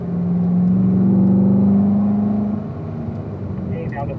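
A race car engine on a track holds a steady, loud drone, its note climbing slowly and then dropping away. The engine noise continues as a lower rumble afterward.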